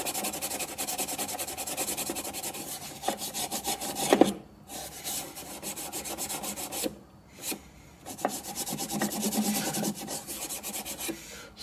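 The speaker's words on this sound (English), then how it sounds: "if I go over it, alcohol and Scotch-Brite," Metal playfield plate on a Bally Super Shuffle Alley electromechanical game being scrubbed with alcohol and a Scotch-Brite pad, giving a steady close rasping rub with brief pauses and a few sharper scrapes, no talking.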